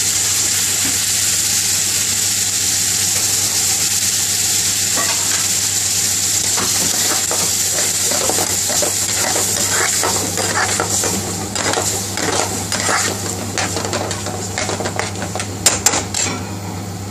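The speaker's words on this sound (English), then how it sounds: "Now he's putting base gravy in." Base gravy hits a hot pan of chicken Rogan Josh curry in a British Indian restaurant kitchen, a steady loud sizzle with scraping stirs and clanks of a utensil against the pan, plus a low kitchen hum.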